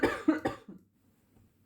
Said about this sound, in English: I had a bit of a coughing fit over there.